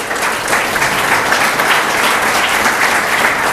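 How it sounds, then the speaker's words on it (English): An audience applauding at a Gujarat innovation society event, a dense, steady round of clapping from many hands, loud and continuous throughout. "One round of applause for Kamlesh bhai."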